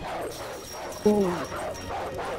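Dog in the video game Call of Duty: Modern Warfare Remastered gives a single sharp bark, loud and close, over busy game sounds and background noise.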